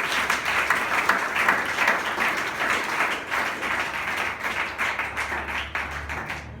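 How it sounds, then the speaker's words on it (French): A church congregation at a thanksgiving service claps steadily and loudly throughout, a dense continuous applause with no break. "Acclamons le Seigneur"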